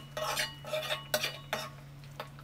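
Curry leaves being stirred into a pan of okra kuzhambu, heard as a few close, scraping spoon-against-pot strokes that come in short uneven bursts over a low steady hum.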